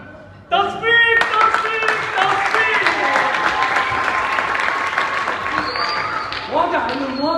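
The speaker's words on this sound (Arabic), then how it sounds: "تصفيق" Theatre audience applause at a stage play, sustained dense clapping from a large crowd that starts abruptly, holds steady and loud for several seconds, then thins out toward the end.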